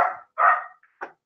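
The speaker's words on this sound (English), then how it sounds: "If you guys can hear any like dogs in the background" Dogs barking in the background: three short barks in quick succession, moderately distant and clear against a quiet room, with no talk.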